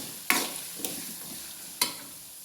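Chopped ginger and garlic fry in hot oil for mango pickle, a soft continuous sizzle broken by three sharp spoon scrapes against the pan, close and without talk.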